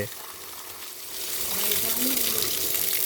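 Water gushes and splashes steadily while a motorbike is washed outdoors in Sri Lanka. The hiss grows slightly louder partway through, with faint voices under it.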